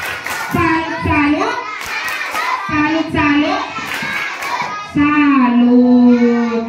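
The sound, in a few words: children doing the rhythmic "tepuk salut" clapping chant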